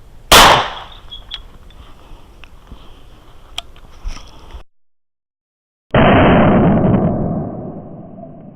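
A 20 gauge shotgun with a modified choke fires a single loud, sharp blast at eggs filled with flour, after a stretch of quiet handling noise and before a later burst of broad rushing noise.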